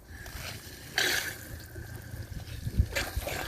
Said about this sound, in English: I'm gonna go out and flush out the outside shower.